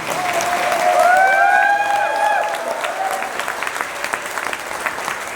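A crowd applauds loudly at first, then the clapping thins into scattered, fading claps, while a bright tonal whistle-like sound swells briefly over it near the start.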